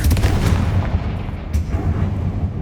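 Confringo explosive spell blasts in the Hogwarts Legacy video game boom loudly in quick succession, with heavy rumbling impacts and a fresh burst about halfway through.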